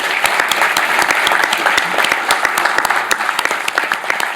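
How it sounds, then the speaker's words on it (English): An audience bursts into sustained applause, with dense overlapping clapping that stays loud and even throughout and holds no talk. "Maybe if I can ask applause for those people"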